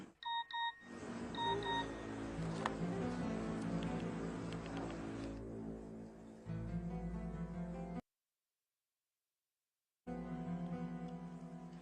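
A mobile phone gives a quick run of electronic notification beeps in an Indonesian soap-opera scene, and soft background music then carries on beneath.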